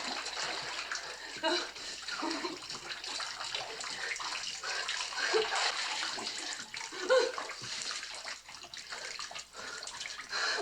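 Water splashing and sloshing as it rises inside an enclosed room, irregular splashes and gurgles close by, with tense voices talking over it.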